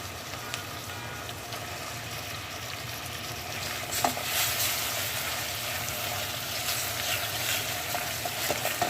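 Shredded chicken and softened onion sautéing in a pan, a steady loud sizzle and hiss with occasional stirring scrapes, continuous throughout with no voices.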